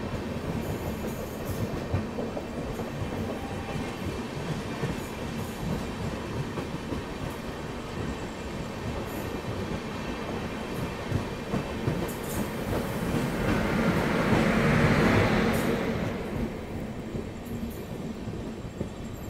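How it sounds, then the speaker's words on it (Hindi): Chennai Bangalore Shatabdi Express passing on Indian rails, heard from a moving train: continuous clickety-clack of wheels over joints with rolling rumble, swelling louder around the middle as the oncoming train rushes by, no talk. "वो है चेन्नई बेंगलोर शताब्दी एक्सप्रेस"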